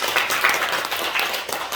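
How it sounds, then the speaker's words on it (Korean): A congregation at a Sunday service in a Korean Presbyterian church claps together, a dense, steady wash of hands that stays fairly loud and close for the whole moment. "우리 한 박수 한번 치겠습니다."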